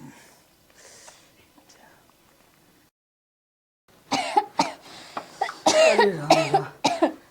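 Several sharp coughs burst out close by in quick succession, with a few quieter breathy sounds before them.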